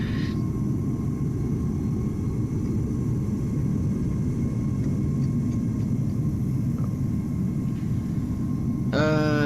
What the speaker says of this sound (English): EasyJet A320 coming in behind it